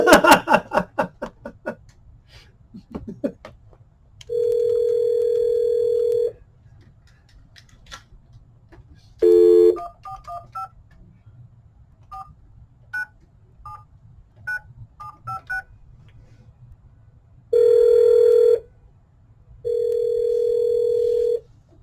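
Short beeping keypad tones are dialed one after another, followed by a phone's ringback tone pulsing in long, even buzzes with quiet gaps between.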